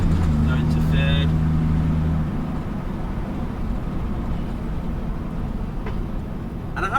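The engine of a 1958 GMC Apache Fleetside pickup with an automatic gearbox drones steadily and loudly while it drives on UK roads in low gear. A humming tone fades out after about two seconds.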